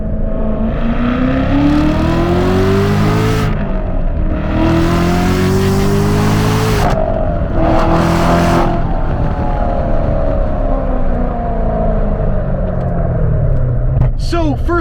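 A 650-horsepower 2017 Corvette Z06 pulls hard, its loud engine revving up through the gears. Rising pitch sweeps are broken by brief shift gaps, and the roar stays close and dominant throughout.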